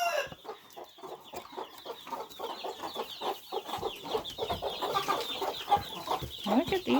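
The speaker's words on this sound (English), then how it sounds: "broody hens who had been sitting on eggs for a while" Broody hens with newly adopted chicks cluck in a farmyard, with busy overlapping clucks and chirps, close and fairly loud, continuing throughout.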